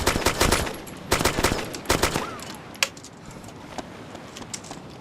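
Gunfire rattles off in DayZ Standalone, several quick clusters of loud close shots in the first couple of seconds, then scattered lighter clicks and a few fainter single reports.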